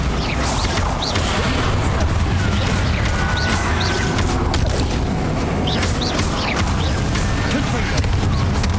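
A Bombarda spell blasts in Hogwarts Legacy amid nonstop spellcasting combat, a dense, steady roar of rumbling explosions and crashing debris with faint high chirps scattered through.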